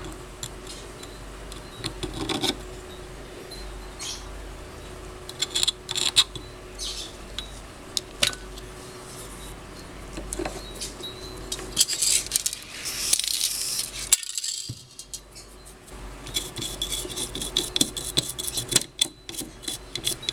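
Scraping and rasping inside the bearing housing of a 16-inch Hatari electric fan while old residue is removed, a metal tool grinding in irregular bursts with light metallic ticks and clinks, close and without speech.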